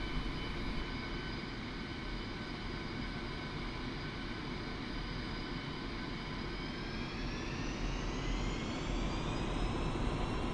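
A Su-25 attack jet taxis in the DCS World flight simulator, its engine whine holding steady and loud throughout, with the pitch slowly rising toward the end as power increases; no voices are heard.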